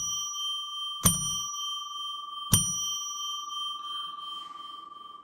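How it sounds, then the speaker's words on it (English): A bell is struck twice, each ring a sharp strike followed by a long, clear, sustained tone that decays slowly, close and isolated in a quiet setting. "begins by ringing a bell 3 times to declare sacred space"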